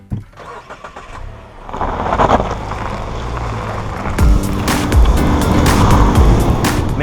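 Turbocharged four-cylinder engine of a 2017 Mazda CX-9 SUV, first rumbling softly, then building into a louder, steady drone of the car on the move with road noise, near and unbroken.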